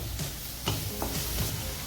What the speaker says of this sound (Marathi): इथे दोन टॅमॅटो बारीक चिरून घेतले ते टाकते थोडीशी कोथिंबीर टाकते